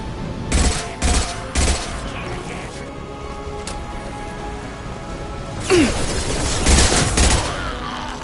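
Gunfire in the Mass Effect 2 video game: three sharp shots early, then a louder cluster of blasts near the end over a steady background hum, with faint talk in between.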